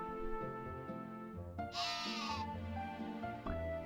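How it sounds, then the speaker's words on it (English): A sheep bleats loudly over steady game music in the video game My Time at Portia, a wavering cry lasting under a second. "Sheep behind me."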